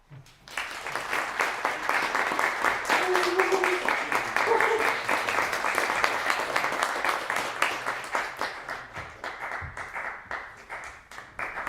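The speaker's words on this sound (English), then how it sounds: "Great to get applause even before I read anything." Audience applause at an evening reading event, a dense round of clapping that builds quickly, holds steady, then thins into scattered individual claps near the end, with faint voices mixed in.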